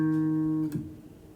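A guitar picks a bass line on its low strings, sustained low notes ringing steadily, then one short plucked note before the sound fades out; played alone and fairly quiet.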